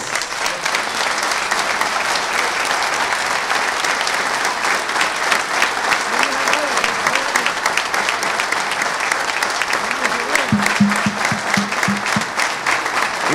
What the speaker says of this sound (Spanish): Un aplauso para los gerentes.